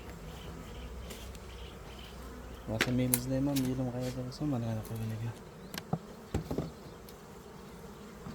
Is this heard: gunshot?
no